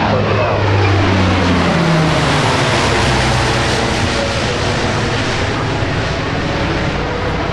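The Blue Angels' Fat Albert C-130 transport roars past at a Naval Air Station Oceana air show, its loud propeller drone shifting in pitch as it passes, with a faint announcer's voice underneath.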